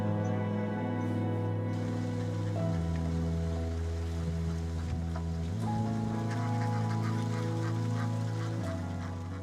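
A flock of ducks being herded near rice paddies quacks and honks continuously in layered overlapping calls, loud and close with a dense steady chorus.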